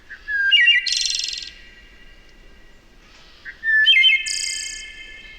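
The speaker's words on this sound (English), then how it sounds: "No matter what I'm doing, I will stop and listen to the wood thrush." Two clear, flute-like bird songs separated by a pause, each opening with low liquid notes and ending in a high, buzzy trill, close and alone.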